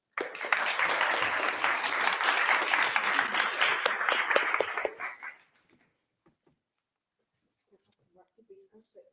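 A crowd at a STEM celebration event applauds loudly and densely to welcome a speaker to the stage, the clapping sustained for about five seconds before fading out abruptly, followed by near silence and faint voices.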